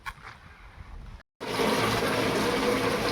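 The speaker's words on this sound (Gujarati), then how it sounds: "વરસાદે જો ફૂલ અત્યારે ધબ બોલાવવાનું ચાલુ કરી દીધું હોય" Heavy rain pours down on a farm, a dense, loud, steady hiss that starts after a brief silent break and continues without letting up.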